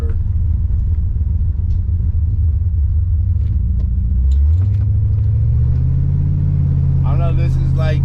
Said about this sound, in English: This got the Crossfire motor.